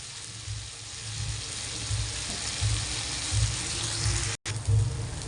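Masala sizzling in hot oil for kaju kadhi, a steady frying hiss with faint bubbling and a brief dropout near the end, no talk.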